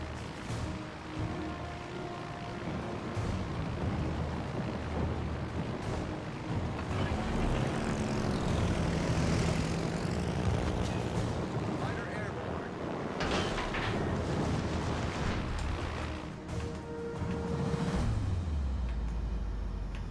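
Carrier aircraft in the naval combat game World of Warships: Legends drone and rumble overhead, rising and passing at moderate loudness over a layer of battle noise, with a player talking at times.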